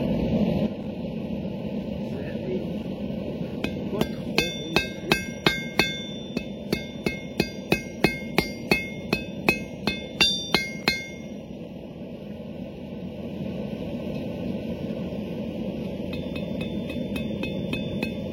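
A forged metal rod being cut with a hammer at a blacksmith's anvil, a run of about twenty sharp ringing metallic strikes in quick succession over a steady background roar, close and loud, then fading to the hiss alone.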